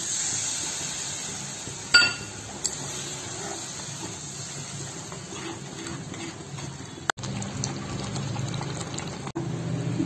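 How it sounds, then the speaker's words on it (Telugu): Tamarind extract poured into fish curry masala simmering in a pan for chepala pulusu gives a steady liquid pour with a faint hiss and a few sharp clinks, continuous for about ten seconds with no talking. "అది వేగించేసి ఒక సెకండ్ ఇలా తిప్పిన తర్వాత ఈ చింతపండు పులుసు వేసేయాలి"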